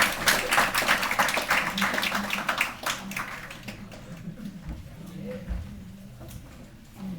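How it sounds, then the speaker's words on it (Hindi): An audience in a classroom lecture hall claps to welcome a professor, a burst of applause that starts strong and fades away after a few seconds, followed by quiet talk and light thumps. "एक बार तालियों के साथ स्वागत करिएगा।"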